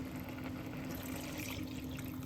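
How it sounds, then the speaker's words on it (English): Water pouring into a pot for boiling chicken ramen noodles, a quiet, steady trickling wash with a faint constant hum beneath and no talking. "Put some water inside"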